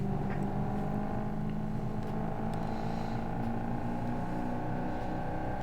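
Car engine in BeamNG Drive held at heavy throttle, a steady, loud, sustained drone with constant tonal whine and no change in pitch, heard alone without talk.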